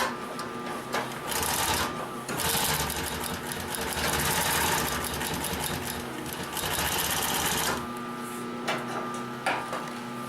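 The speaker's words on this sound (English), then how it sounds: "And that is your 744R-30 Consew machine." A Consew 744R-30 industrial sewing machine stitching through a thick stack of webbing layers gives a close, steady mechanical whirring hum with brief pauses and restarts, the motor running almost continuously.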